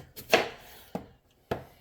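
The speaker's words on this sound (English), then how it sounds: "If you breathe through your mouth while you're chopping onions, then you won't cry." Onions are chopped on a cutting board while elk chili is made, three sharp knife strikes landing close and distinct at an uneven pace in a quiet kitchen.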